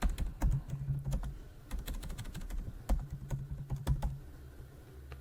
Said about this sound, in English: We're going to type in the username and password.